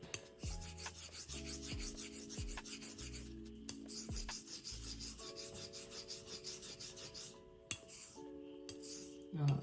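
Steel blade stroked over a coticule whetstone with slurry, in repeated rhythmic half strokes and X strokes, producing close, soft rasping and rubbing with occasional faint metallic ringing.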